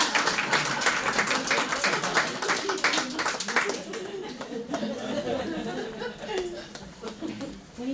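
People at a town board meeting clap in quick, dense bursts for several seconds amid laughter and chatter, then the clapping thins out while voices continue.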